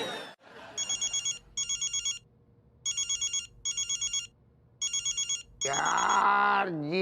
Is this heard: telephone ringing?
yes